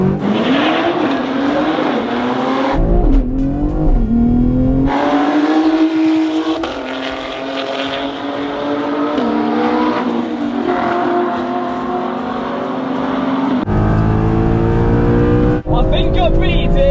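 A BMW X3M with a weak clutch launches and pulls hard, its engine note rising and dropping through several gear changes, loud and close, with voices heard over it.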